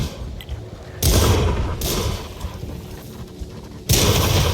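Artillery fire in the World of Tanks video game, with three heavy booming blasts spaced a couple of seconds apart over a low background rumble.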